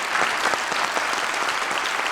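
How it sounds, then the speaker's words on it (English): An audience at the Choose Happy Symposium claps in steady, dense applause throughout, loud and close, with no voices standing out. "another round of applause for these guys from Happy Munkey"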